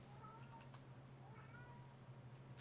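A house cat meows repeatedly in the background, the faint calls rising over a steady low hum and scattered clicks like keyboard typing, with no voice speaking.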